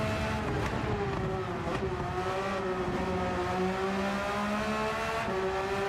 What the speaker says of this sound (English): that engine on that Porsche just sounds so good.